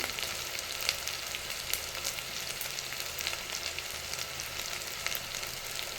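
Cut green chillies frying in a pan while making ghee rice, a steady close crackling sizzle running throughout with small pops, no voices.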